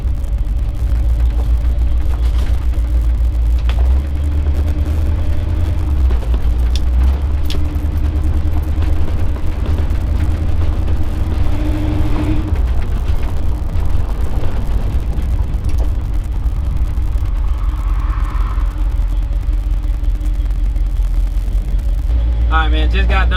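A 1983 Chevy C10 pickup driving, with a loud, steady low engine rumble and road noise from inside the cab throughout, and someone talking at times over the drone.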